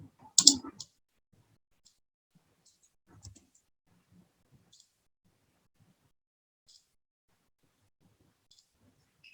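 A computer mouse gives one sharp, close click, followed by a few sparse, faint clicks spread across otherwise near-silent stretches.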